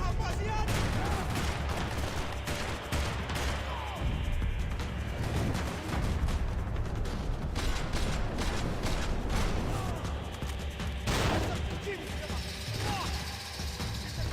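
Gunfire in the video game Max Payne, with dense, loud bursts of shots and rapid fire crackling almost nonstop, mixed with engine rumble and a voice talking over the fighting.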